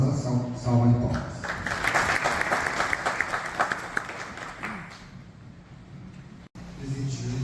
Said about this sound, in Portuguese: solicito dos presentes uma calorosa salva de palmas